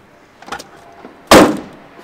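Door on a worn VW T2B camper bus with loose hinges swings shut in one sharp, loud slam, preceded by a faint click of handling.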